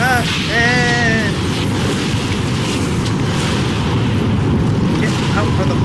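Trap going off in the fantasy video game Dragon Age: Awakening, a loud sustained rumbling explosion and roaring fire that fills the whole stretch, with game voices crying out briefly near the start.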